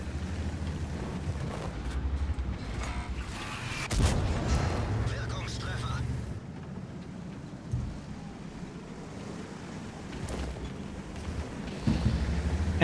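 Heavy tank cannon fire from the double-barreled German E 65 Zwilling in a tank video game, deep booming blasts around four and twelve seconds over a constant low engine rumble, with someone talking throughout.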